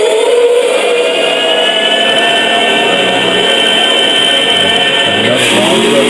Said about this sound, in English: For your soundtrack on this particular hilt, you have the actual speeder bike sounds.